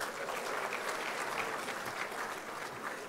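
Graduates at a KNUST School of Graduate Studies congregation ceremony clap together, producing a steady, even wash of applause that holds for about three seconds at moderate distance.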